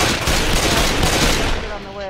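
Rapid, loud gunfire in the zombie shooter Left 4 Dead, a dense, sustained burst of shots with a voice speaking briefly near the end.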